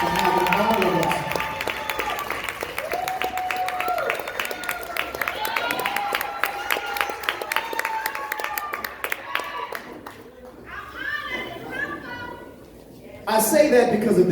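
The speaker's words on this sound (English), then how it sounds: "everybody please stand up and give this sister a nice round of applause" A dense crowd at an Afrocentric poetry jam claps steadily and warmly, the applause filling most of the stretch before dying down, with voices and some cheering mixed in.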